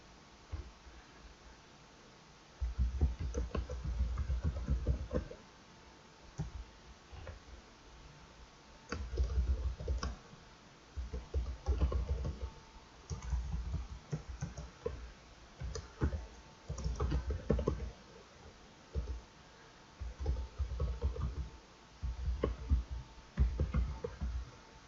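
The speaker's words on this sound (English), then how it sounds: "You can keep typing if you want on the same line." Fingers click away at a computer keyboard in bursts of quick, light keystrokes separated by short pauses, fairly faint and close, with no talking.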